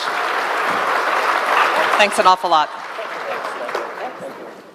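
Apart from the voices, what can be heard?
audience applause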